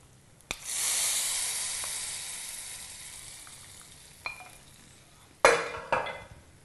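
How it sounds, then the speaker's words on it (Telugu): Hot tempering poured into simmering ridge gourd curry lets out a sudden loud hiss that swells and slowly fades, followed later by a couple of sharp metal clinks and brief renewed sizzles, close and with no voices. "ఈ మిశ్రమాన్ని, ఈ పోపుని ఉడుకుతున్న కర్రీలో వేసేసుకోవాలి"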